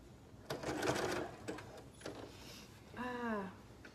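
A sewing machine stitches a sleeveless garment in short close bursts of rapid mechanical clatter, ending in a brief whirring wind.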